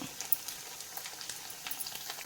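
Idli pieces frying in hot oil for an evening snack, a steady close crackling sizzle with scattered pops running throughout, no voices.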